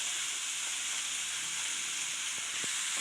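Bottle gourd sautéing in a hot pan for a bottle gourd gravy, giving a steady, close sizzle and frying hiss throughout, with a couple of faint stirring knocks near the end.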